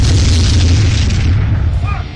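An M777 howitzer artillery gun fires with a single loud, deep boom whose broad blast rumbles and slowly fades.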